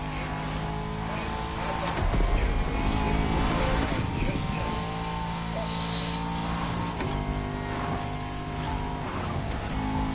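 A Bugatti Anniversary Edition roars at high speed in The Crew Motorfest, its engine droning loud and steady with a surge of revving partway through. Game music and voices run underneath.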